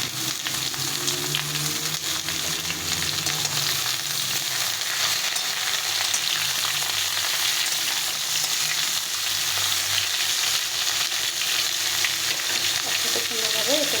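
Ridge gourd and pointed gourd frying in a pan, a dense, continuous sizzle and crackle of oil with occasional stirring scrapes, steady and close throughout with no talking.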